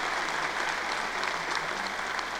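A commencement ceremony crowd applauds a graduate with dense, sustained clapping that fills the hall at an even level.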